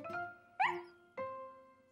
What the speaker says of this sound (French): Snuffy se mit à aboyer.